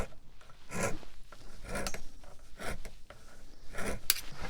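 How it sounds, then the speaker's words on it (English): Rasping back-and-forth strokes of a serrated bread knife sawing into a wooden hickory golf club shaft, a steady rhythm of scraping pulls up close. "I am sawing into the wood"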